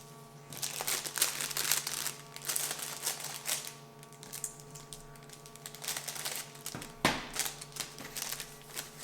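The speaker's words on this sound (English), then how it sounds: "You can trim those right out of the cellophane bag." Cellophane bag crinkling and crackling as cookies are pulled out of it, a close, busy run of sharp rustles and snaps that continues for several seconds.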